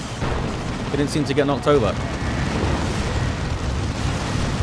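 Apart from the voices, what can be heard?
explosions from nukes in video game Dawn of War 2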